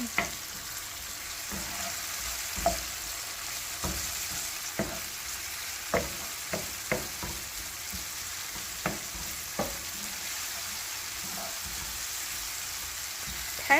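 Onions and garlic fry in a pan with a steady broadband sizzle, broken by scattered sharp clicks and scrapes of stirring. Close and moderately loud, with no talking.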